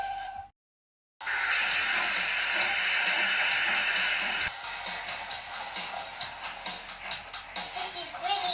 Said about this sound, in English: made lots of steam, and Edward puffed away